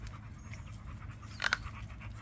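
A dog pants softly in an outdoor park with a lane, breathing in a steady quiet rhythm close by, with a couple of brief sharper breaths near the middle.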